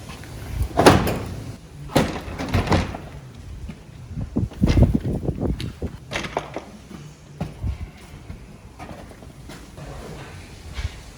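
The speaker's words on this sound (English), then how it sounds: "First we gotta get the horse door out of the way." A heavy wooden horse door in an old barn is shifted and dragged aside, giving a series of scattered knocks, bangs and scraping thuds spread irregularly over several seconds, moderately close.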